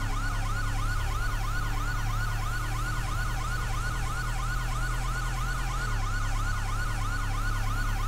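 A police vehicle siren in GTA V sweeps up and down continuously, loud and steady throughout, with a low engine-like drone underneath and no voices.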